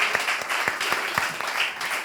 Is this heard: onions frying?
no